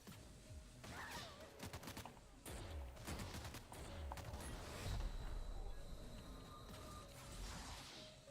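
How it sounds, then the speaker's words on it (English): In a video game, a grenade launcher fires several times, sharp thumps and mechanical clacks landing at irregular intervals amid rattling, creaking game effects. "I'm shooting grenades"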